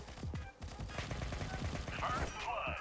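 Rapid gunfire in Alpha Ace (The Origin Mission), a mobile first-person shooter played on a small map, with bursts of shots crackling throughout amid busy game effects and some voices.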